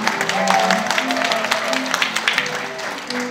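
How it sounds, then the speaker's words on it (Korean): Audience of parents at a packed school admissions briefing claps for an incoming lecturer, a steady mix of many hands lasting a few seconds under a faint voice. "박수 좀 받으세요"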